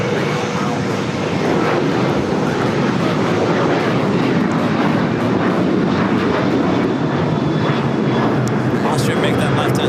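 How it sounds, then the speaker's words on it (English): A Bombardier Global 5500 business jet arriving at LAX from Van Nuys, a loud continuous engine roar with wind noise throughout and a faint whine. "Now we turn our attention to this Global 5500 coming in from Van Nuys."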